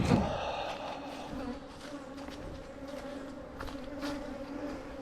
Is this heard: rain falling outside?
no